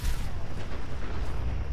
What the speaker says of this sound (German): explodiert hier noch ein Auto